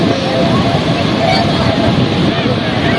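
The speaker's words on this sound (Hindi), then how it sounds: "और पानी की लहरें जो है आ रही हैं" Water waves rush against a small boat on a river or lake ride, a loud, steady churn mixed with engine rumble and wind buffeting the microphone.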